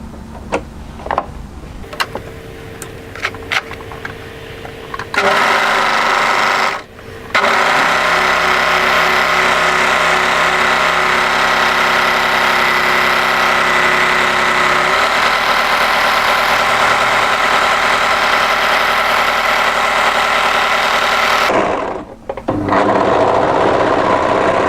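A sewing machine stitches a hem along the long plain edge of a slim draped asymmetric cardigan, running in a steady, loud, continuous whir for most of the stretch after a few short bursts and pauses.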